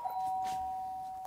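Doorbell chiming once at a house, a clear tone ringing out and fading over about a second, heard alone in a quiet room.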